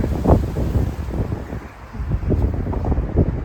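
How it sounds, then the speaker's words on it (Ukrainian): Gusty wind buffets the microphone with low rumbling thumps, rising and easing in bursts over a steady outdoor rush. "А зараз, мабуть, видно, що вітер, так?"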